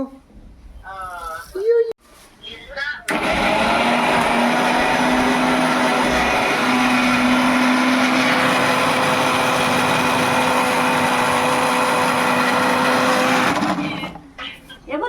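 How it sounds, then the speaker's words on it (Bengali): An electric grinder whirs steadily as it turns ginger and garlic into paste in a home kitchen, a loud continuous motor drone for about ten seconds that starts and stops abruptly, with people talking before and after. "আদা রসুন পেস্ট করা হচ্ছে মেশিনে।"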